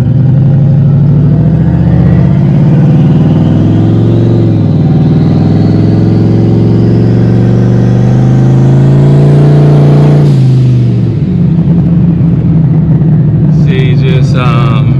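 A turbocharged Ford Mustang engine revs loud and close, its pitch rising steadily for about ten seconds before dropping off abruptly and settling into a rougher idle. The engine is not loading up properly.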